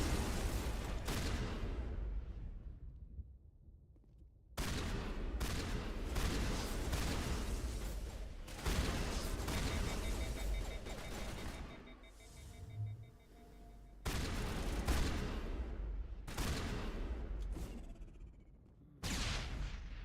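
Repeated heavy shotgun blasts in the sci-fi shooter Mass Effect, several broadband booms in irregular succession with dense rumbling combat noise between them.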